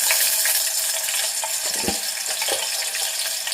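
Spices and garlic paste for a tempering sizzle in a hot pan in the kitchen, a loud, steady hiss with faint stirring clinks beneath, no talk.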